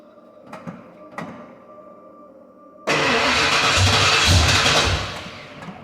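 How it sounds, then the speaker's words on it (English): A small block Ford V8 in a retrofit roller engine, sounding like a diesel, gives a couple of short clicks and then fires into a loud, rough, steady idle that drops off near the end. "I'm gonna go ahead and fire it up right now and see if the camera will actually catch the noise"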